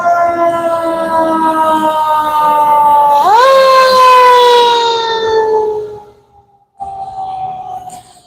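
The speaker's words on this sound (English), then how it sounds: "here comes a fire truck" A fire truck siren wails outdoors on a quiet campus shut for the holidays, a loud steady tone that sweeps upward partway through, then cuts off briefly before sounding again.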